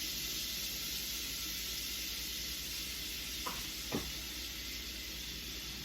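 A quarter cup of butter melting in a pan for broccoli cheddar soup gives a steady, even sizzle and hiss throughout, with a couple of faint clicks near the end.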